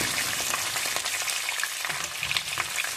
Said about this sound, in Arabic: الزيت سخون لهنا باش نهبط البطاطا